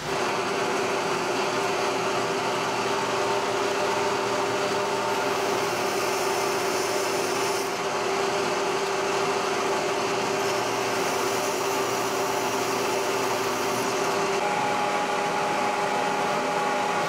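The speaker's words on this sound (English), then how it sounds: "So I'll lock the table, go ahead and drill and tap that." A Bridgeport-style milling machine drills and taps a part, giving a loud, steady whine and whirring hum that runs unbroken with little change and no voices.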